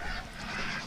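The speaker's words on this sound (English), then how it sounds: "Ducks are enjoying the rain." Ducks honking out in the rain, a brief burst of loud, close, nasal calls over a wet, hissing background.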